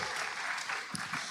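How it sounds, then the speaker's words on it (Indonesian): Short stretch of steady audience clapping in a hall during a public talk and question session, a dense, moderately distant patter with a few louder claps. "Tepuk tangan dulu teman-teman."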